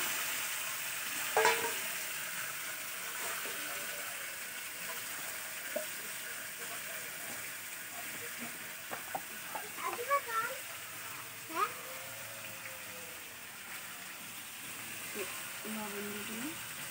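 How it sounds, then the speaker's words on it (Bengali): Chicken pieces frying in a pan give off a soft continuous sizzle, with occasional clinks and stirring scrapes and a few brief background voices and sounds over it. "একটু ভেজে নেব।"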